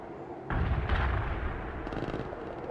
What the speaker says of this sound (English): Commence artillery fire